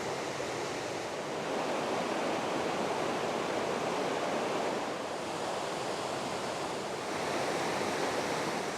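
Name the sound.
waterfall of water spilling over a dam on Middle Creek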